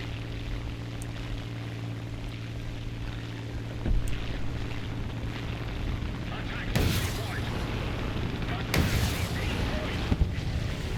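Rockets fire and explode during a War Thunder ground battle with US tanks, heard as two sharp, loud blasts over a constant rumbling engine and wind-like roar.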